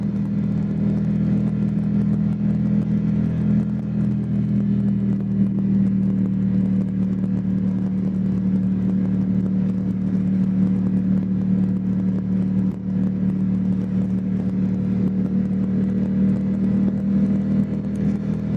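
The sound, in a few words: motorcycle riding up Mulholland in LA traffic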